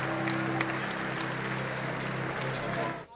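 Applause from a crowd of parents and teachers at a graduation ceremony, with dense, steady clapping that fills the room before cutting off sharply near the end.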